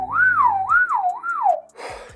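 Inward whistle beatbox technique, a single close, loud whistled tone swooping up and down in three smooth waves, with a brief breathy burst of noise at the end.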